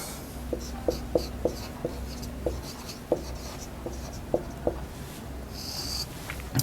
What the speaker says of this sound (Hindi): अब फार्मूला लिखता हूँ